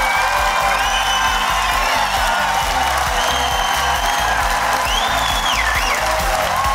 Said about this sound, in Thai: ขอเสียงปรบมือดังๆให้กับ20สาวนี้ครับ